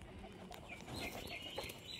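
A plum mada pigeon coos softly against steady background noise, with a few short, faint calls and no speech.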